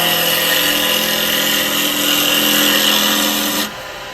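A woodturning lathe spins a wooden blank while a carbide roughing gouge cuts it, giving a loud, steady high whine with even tonal hum that drops away abruptly near the end.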